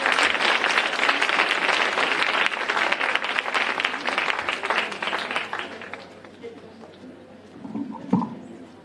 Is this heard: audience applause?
yes